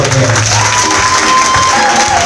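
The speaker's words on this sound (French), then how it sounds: "C'est comme ça qu'on applaudissait pour Dieu." A church congregation claps and cheers in praise of God, a dense, loud, continuous wash of applause with crowd voices mixed in.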